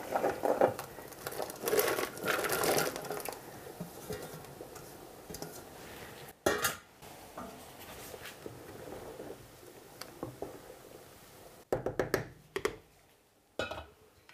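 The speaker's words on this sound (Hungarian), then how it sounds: "Most már forr a leves" Homemade sour-cream mushroom soup with chicken gizzards boils in a pot on high heat, giving a steady patter of bubbling with scattered clicks and ticks, fairly quiet and close, with a few sharper knocks near the end.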